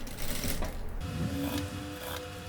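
Sewing machine stitching a backstitch along a zipper with a half presser foot, giving a steady close mechanical whir with fast rhythmic needle clatter, heard alone.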